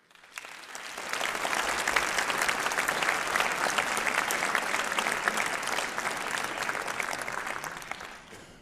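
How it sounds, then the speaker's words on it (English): An audience at Tilburg University's academic year opening applauds the Students' Association board members with loud, sustained clapping that swells quickly, holds for several seconds and then starts to fade. "Let's give the 4 board members of the Students' Association a big round of applause"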